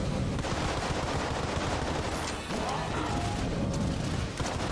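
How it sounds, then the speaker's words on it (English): Yari launcher shots in Exit the Gungeon, a bullet-hell video game: a constant, dense barrage of rapid projectile fire that stays loud and unbroken throughout. "The Yari launcher shots, they're still going!"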